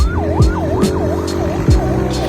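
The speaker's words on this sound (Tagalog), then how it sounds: "Uy, may wangwang." Emergency vehicle siren wailing on the road during a bike ride in Ternate, Cavite, with rapid repeating swoops, loud and fairly near over traffic and engine noise.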